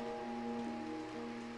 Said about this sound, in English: It started to rain hard there.